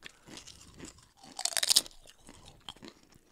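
Thin, potato-chip-like snacks crunched up close, a few soft chewing bites followed by a loud burst of brittle crackling, then quieter chewing.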